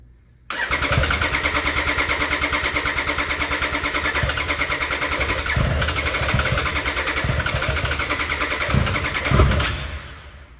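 A 2025 Triumph Street Triple RS motorcycle with a cold-start problem cranks on its starter, and the engine grinds with a rapid, loud, even churning rhythm for about ten seconds before it fades. Close and alone, with no talk.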